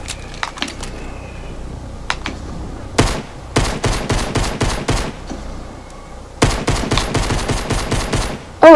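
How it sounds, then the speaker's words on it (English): Hand cannon shots in the Fortnite video game ring out as a sparse few early cracks, then two dense bursts of rapid, loud, close gunfire with brief gaps between them. "This is the hand cannon,"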